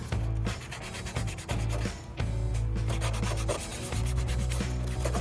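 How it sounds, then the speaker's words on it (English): Leather on a BMW E36 door panel is scuffed with 240 grit sandpaper, making close, loud, rhythmic back-and-forth rasping strokes in quick repeated bursts with brief pauses. "So now you sand this leather. You give it a scuff."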